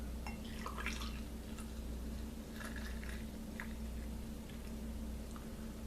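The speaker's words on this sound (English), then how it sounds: "I'm gonna pour this in." Beer poured into a glass, heard as faint, scattered liquid drips and splashes over a low steady background hum, with no talking.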